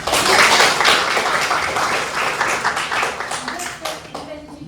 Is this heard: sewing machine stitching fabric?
no